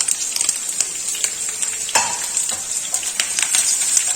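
Curry leaves hit hot oil in a pan, giving a close, steady crackling sizzle with scattered sharp pops and light clinks of a utensil against the pan, without talk.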